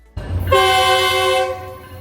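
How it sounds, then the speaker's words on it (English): A commuter train near an intersection sounds one long, loud, steady horn blast lasting about a second, over a low rumble of the moving train. "the commuter train blows its horn at the intersection every hour"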